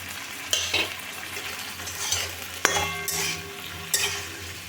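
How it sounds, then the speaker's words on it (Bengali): A cumin, ginger and green chili paste is stirred into pumpkin frying in a pan, with a few sharp metal scrapes and rattling strokes over a low sizzle, close and without speech. "এগুলো দিয়ে সব ভালো করে নেড়ে নিচ্ছি"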